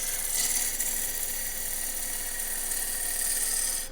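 A wood lathe turns a bowl at up to about 1200 RPM while a tool makes a shaping pass, giving a steady, close, high-pitched whirring scrape that holds for the whole stretch with no talk.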